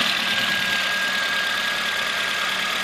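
A car engine idling steadily during in-place fuel injector cleaning, giving a continuous close hum with a thin steady whine and no breaks.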